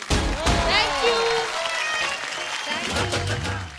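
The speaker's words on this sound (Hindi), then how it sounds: "तो एक बार जोरदार तालियां भावना और श्वेता के लिए और अंकल के लिए भी" Audience applause for Bhavna, Shweta and an uncle, a loud burst of clapping across a crowd that carries on steadily through the moment and swells again near the end.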